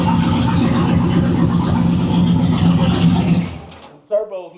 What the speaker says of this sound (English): Turbos make it sound different.